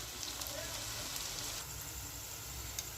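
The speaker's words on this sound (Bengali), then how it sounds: "ঘিয়ের সাথে পেঁয়াজটা একটু ভাজার সময় স্মেলটা সুন্দর আসে। একটু লাল লাল করে পেঁয়াজটা আমরা ভেজে নেব।" Onions frying in ghee in a pan for chicken kanti, giving a steady, dense hiss and crackle that carries on without pause and fills the whole moment.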